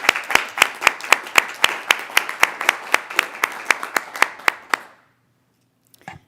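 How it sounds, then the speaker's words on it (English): Scattered hands clap in a slow, regular rhythm of about twenty distinct claps at a city council meeting, sounding like only a small group, then the clapping stops abruptly and near silence follows, with a faint shuffle at the end. "Let's give them one more round of applause."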